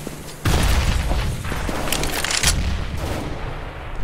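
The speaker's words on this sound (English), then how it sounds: "Grenade out." A grenade explosion in CS:GO lands as a sudden loud boom, with crackling gunfire and echoing blasts rolling on throughout the round.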